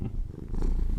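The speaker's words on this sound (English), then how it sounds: "He's got a very large purr chamber," A domestic cat purring loudly and close, a deep, continuous rumbling purr that swells and fades with each breath across the whole moment, with no talking.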